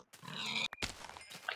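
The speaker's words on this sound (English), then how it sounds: "Pigs! Pigs! Pigs! Pigs!" Pigs in Minecraft let out a few short grunting oinks, close and fairly loud, separated by brief gaps and clicks.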